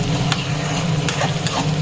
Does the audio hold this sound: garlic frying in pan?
yes